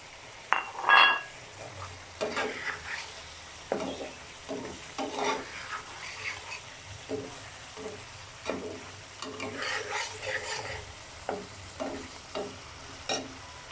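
Eggs frying in a korma masala of whole garam masala, a soft sizzle under irregular stirring scrapes and occasional light clinks of utensil on pan, close and moderate in level.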